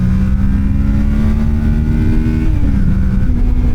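A Kawasaki Ninja 650 motorcycle accelerates hard in second gear, its engine note climbing steadily and loud throughout, with a brief dip around a gear or throttle change near the end.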